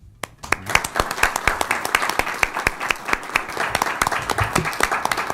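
Applause at a city council meeting, with a modest crowd whose individual sharp hand claps stand out distinctly, uneven and fairly close, continuing steadily across the whole stretch.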